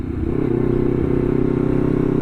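A 2023 Honda CBR250RR SP sport motorcycle riding along, its engine a steady close buzzing drone with rapid pulsing, loud and continuous with no talk.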